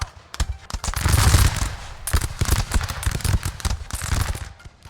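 Musket units fire in massed volleys and crackling bursts during a battle in the video game Shogun 2: Total War, loud, rapid and overlapping.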